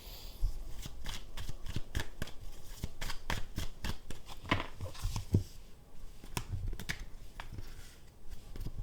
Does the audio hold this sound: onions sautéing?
no